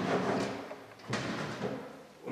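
Drawers slide and knock in the lower section of a mahogany Biedermeier cylinder secretary desk, heard as quiet wooden rubbing and a soft thud partway through.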